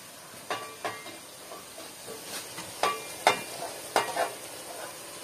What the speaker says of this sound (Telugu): 1 టేబుల్ స్పూన్ పసుపు వేసుకొని మంచిగా కలుపుకోవాలి.